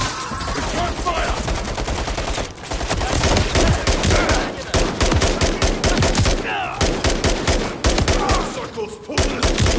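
Gunfire in the video game Call of Duty Modern Warfare 3: loud, rapid automatic bursts and overlapping shots, nearly continuous with a few brief pauses, with shouted voices mixed in.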